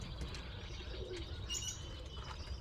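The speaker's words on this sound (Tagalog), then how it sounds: "Baby kalapati." Pigeons with baby pigeons and eggs nearby give soft, low cooing and faint chirps, steady and close, over a dense rustling background.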